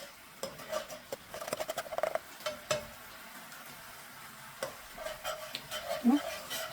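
Pollock sauce boils on high heat in a pot, with soft bubbling and sizzle broken by scattered clinks and scrapes of a utensil stirring against the pan, fairly quiet and close.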